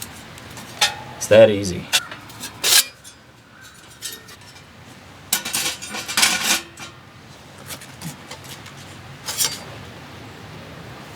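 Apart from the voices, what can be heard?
metal folding camping stove being opened up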